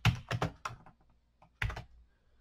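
Keys clacking on a computer keyboard in short bursts of several strokes, close and clear, with brief pauses between the clusters and no talking.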